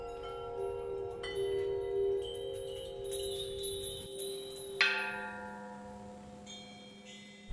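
Temple bell struck at an open-air Buddhist temple in Thailand, giving a sustained metallic ring with a second strike midway, the tone lingering and fading over steady ambient murmur.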